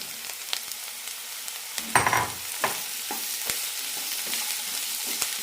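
Potato pieces frying in a pan over medium flame while being stirred, a constant crackling sizzle broken by scrapes and knocks of the spoon, one louder scraping burst near the middle.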